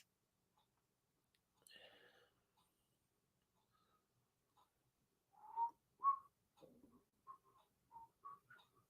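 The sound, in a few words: human whistling a tune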